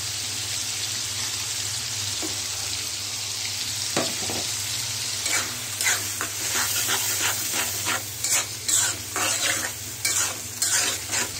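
Katla fish curry with green peas fries in a hot pan, a constant close sizzle and hiss overlaid with rhythmic scraping stirs that grow busier and more frequent in the second half.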